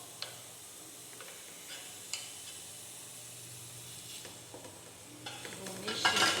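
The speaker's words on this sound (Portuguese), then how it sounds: "Vou mexer bem. Esses temperos aqui tem que fritar, deixar eles bem fritos." Spices with chili pepper and tomato fried and stirred in a pan for shrimp vatapá, a soft steady sizzle with scattered spoon clicks, growing louder and busier toward the end.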